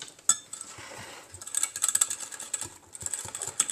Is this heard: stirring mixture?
yes